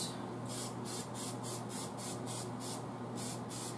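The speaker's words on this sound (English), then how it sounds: "So I'm going to spray some more oil there." Cooking oil sprayed from a can onto a sheet pan in a quick series of about ten short hissing bursts, close and fairly soft, with no talk.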